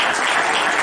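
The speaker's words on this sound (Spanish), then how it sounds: "Fuerte el aplauso para el maestro Vicente Romero Ruiz con este gran tema" Steady applause from an audience, a dense continuous wash of clapping throughout, loud and close.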